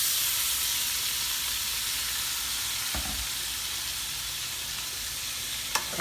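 Cow-foot meat for a Haitian-style stew goes back into a hot pot with a little liquid, giving a loud, steady, close sizzle and hiss that holds throughout, with a brief clatter midway and a tap near the end.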